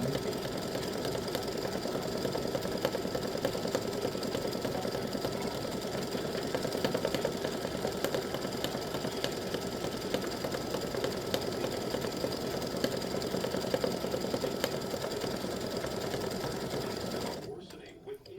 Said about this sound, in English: I'll let this first one stitch and then I'll come back when they're all done.